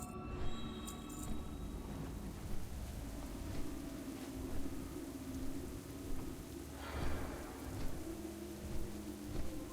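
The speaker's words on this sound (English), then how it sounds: "It's raining." Steady rain patters in World of Warcraft, with low rumbles of thunder rolling in the background, a continuous moderate wash of rainfall.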